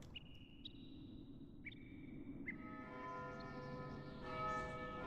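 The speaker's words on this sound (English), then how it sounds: "Bells." Bells ring in the Vagrant Story video game: several clear struck tones in a slow staggered sequence, then a fuller sustained chime swelling over a low ambient rumble, with no talking.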